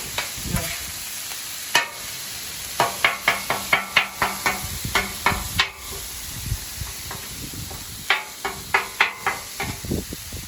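Partly frozen beef for Philly cheesesteaks fries in a hot pan, a steady sizzle broken by bursts of rhythmic spatula scrapes and stirring strokes, close and with no talk.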